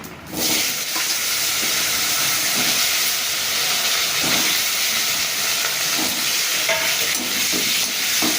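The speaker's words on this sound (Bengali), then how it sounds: "দিচ্ছি জিরা ফোড়ন, দিয়ে দিচ্ছি কেটে রাখা আলু" Cut potatoes drop into hot oil with cumin seeds and fry with a loud, steady hiss and sizzle, with occasional stirring clatter, close up and without speech.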